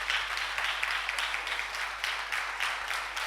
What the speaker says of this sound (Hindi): एक जबरदस्त तालियां होना चाहिए अपने एमडी सर